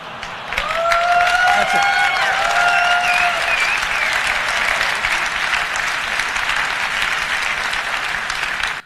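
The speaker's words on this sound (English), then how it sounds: "Did you hear the applause?" Sustained audience applause with cheering at a recorded iPhone keynote, loud and dense for about eight seconds, with a brief spoken voice and some whoops near the start.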